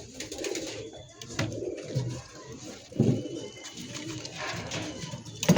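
Pigeons coo repeatedly in a crowded pigeon market, soft rolling calls overlapping from several birds nearby amid general background bustle.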